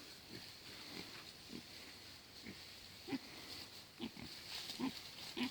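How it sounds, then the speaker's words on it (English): Pigs rooting for acorns in a forest paddock shared with cows, giving soft, scattered grunts and snuffles at close range over a quiet outdoor background. "We got the cows and pigs hanging out together in the forest paddock."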